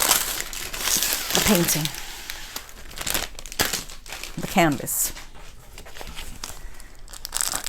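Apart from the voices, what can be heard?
plastic bag crinkling while unpacking a diamond painting kit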